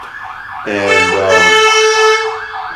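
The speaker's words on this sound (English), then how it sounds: "you can hear an EMS vehicle, ambulance going right by us" An EMS ambulance siren passing close by on a Virginia Beach street, a loud wailing tone that swells in suddenly and stays strong, with a brief spoken word underneath.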